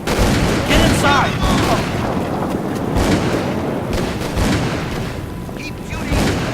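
Gunfire from the horror video game Call of Cthulhu: Dark Corners of the Earth, dense loud booming shots and blasts running continuously through the scene with game voices mixed in.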